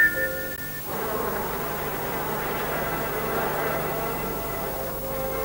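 A bee colony buzzes in a dense, steady drone that stays loud and unbroken for several seconds after a brief tonal opening, with no voices over it.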